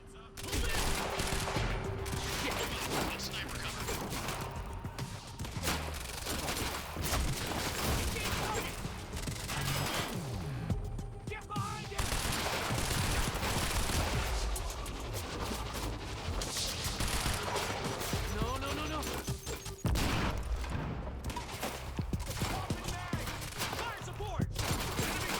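Sniper fire and gunfire during a firefight in Quantum Break, with dense, sustained volleys of shots and crashes running nearly throughout, while voices shout over the action.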